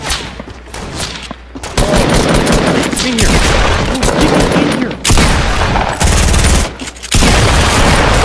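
SMG gunfire in a video game: loud, rapid automatic bursts fire almost continuously, with only a few brief pauses between volleys.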